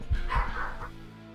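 Dogs bark indoors, two quick close woofs followed by a softer trailing yip, loud and near.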